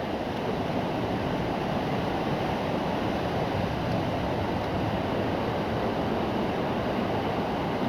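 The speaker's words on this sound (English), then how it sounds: "It's just the rapids" Rapids on Kariong Brook rush over mossy rocks in a steady, broad roar, loud and close, unchanging throughout, with no voices.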